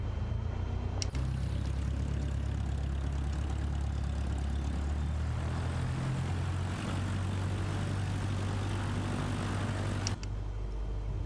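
Propeller airplane taxiing in Microsoft Flight Simulator 2024, a steady low engine drone and hum that shifts pitch partway through, with sharp clicks near the start and end and no talking.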